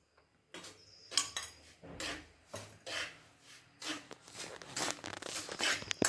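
Ghee spooned into semolina roasting in a pan, with scraping and rubbing strokes from a spoon against the pan in an uneven rhythm, close and moderately quiet.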